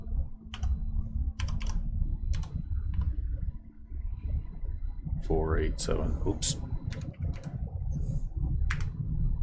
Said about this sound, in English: I have a hard enough time typing on a regular keyboard, never mind one of those holotape recorder keyboards